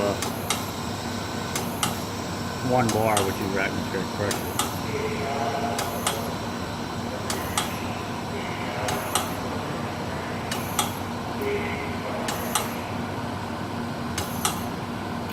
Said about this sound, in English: That's that ticking noise we hear.